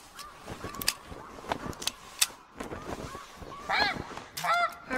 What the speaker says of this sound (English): More geese are coming.